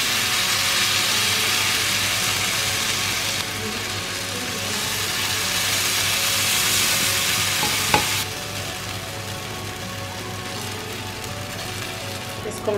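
Chilla batter fries on a hot ghee-greased tawa, giving a loud, steady hiss and crackle that eases slightly midway, with a single light clink partway through.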